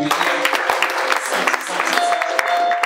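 Scattered clapping from a group, uneven and fairly close, with a faint tone and some background voices mixed in.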